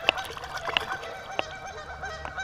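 A handful of scattered goose honks, moderately loud, separated by short gaps over a steady outdoor background.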